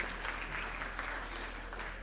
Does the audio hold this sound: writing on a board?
no